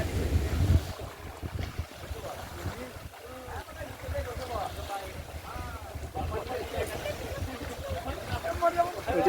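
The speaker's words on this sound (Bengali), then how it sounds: "এরকম ঢেউ আসছে বাবা, হাওয়া দিচ্ছে" Wind and waves on open water heard from a boat, with gusty rumbling wind buffeting the microphone and a continuous wash of water, while people talk throughout.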